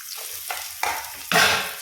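Finely chopped ginger, garlic and a large onion hit hot oil in a pan with a close, hissing sizzle. It swells in three or four steps, each louder as more goes in, and is loudest at the end.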